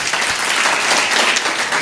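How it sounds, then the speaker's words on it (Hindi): A congregation claps loudly together at a religious gathering, a brief dense burst of applause with no pauses. "जितने लोग सुन रहे हैं एक बार ताली बजा दीजिए जोर से"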